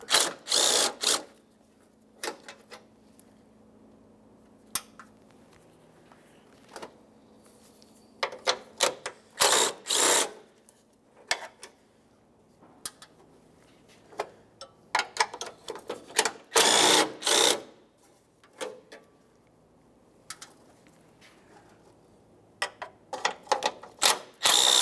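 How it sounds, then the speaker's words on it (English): A ratchet spins off 11 mm grille mounting nuts on a 2003–2011 Mercury Grand Marquis in repeated bursts of fast, loud, close clicking, separated by quiet gaps as each nut is worked. "you have five 11 millimeter mounting nuts holding this in place. Make your way down the line, removing each as you go."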